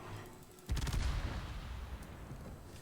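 Heavy naval guns fire from a warship in a naval combat video game, a loud booming salvo that rolls on into sustained rumbling, alone without talk.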